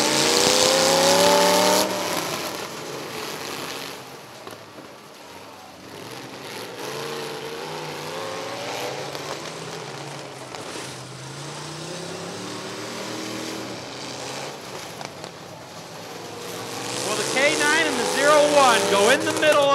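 Race cars roar around the figure 8 trailer race at Rockford Speedway, engines revving and rising as they pass, loud and continuous with a crowd-like wash beneath and a louder surge near the end.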